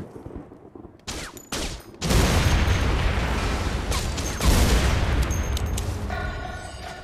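A few sharp pops from a silenced pistol aimed at barrels in The Saboteur video game, then a large rumbling blast that builds and carries on with loud crackling explosions for several seconds.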